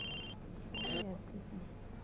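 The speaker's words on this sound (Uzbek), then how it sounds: "Telefon keldimi?" A telephone rings with two short electronic tones separated by a pause, faint against steady room noise.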